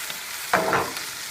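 Mushrooms searing in a pan give a low hiss, then a sudden brief burst of sizzle and stirring at about the midpoint. The sound stays close and short, with no voices.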